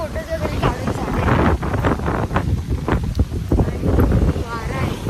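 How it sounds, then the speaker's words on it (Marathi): Seaside wind in Goa roars across the microphone in steady gusts, with people talking throughout over the rushing buffeting. "आणि वारा आहे."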